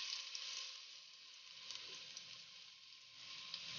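Garlic sizzles in hot olive oil at the start of a soup, a continuous bright hiss with faint crackles, close but quiet, steady throughout with no talk.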